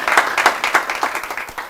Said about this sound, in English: welcome these potential CEOs by giving them a hand clap